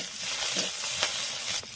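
Tamarind water poured into a frying village-style fish curry with potatoes, a loud, bright, continuous sizzle with crackling pops that cuts off abruptly near the end.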